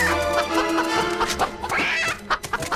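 Loud, close chicken clucking from Fable III, a busy run of sharp squawky clucks rising in pitch midway over steady game background.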